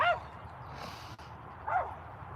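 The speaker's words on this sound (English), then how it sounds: "there's all dogs barking" Dogs barking somewhere nearby, two short yipping barks about two seconds apart over a low background hum.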